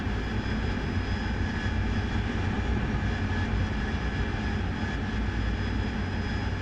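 Steady aircraft engine drone from a flight simulator game, a continuous near hum with a faint high whine, holding level and unbroken from start to finish with no talk over it.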